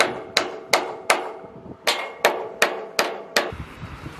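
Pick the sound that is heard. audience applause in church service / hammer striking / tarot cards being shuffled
hammer striking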